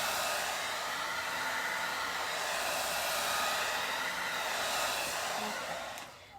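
A hair dryer on a cool setting blows with a steady, loud airy rush, holding constant before tapering off at the end.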